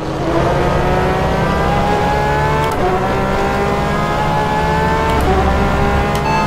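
A Porsche 911 RSR GTE race car at Portimao in rFactor 2 howls under heavy load, its high-revving engine note climbing steadily through the gears with brief shifts, loud and continuous with no talk.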